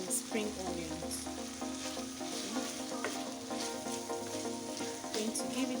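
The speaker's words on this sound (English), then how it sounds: "Going to give it a beautiful stir." Chicken sauce with tomato paste, green beans and spring onions sizzles steadily in a pan while being stirred, a constant close crackle under background music.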